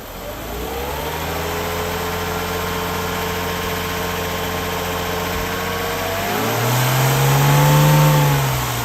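A 1994 Mercedes C280 engine hums at steady raised revs near 3000 RPM with a constant mid-pitched drone, then swells louder and deeper toward the end as the revs shift, close and alone with no talk.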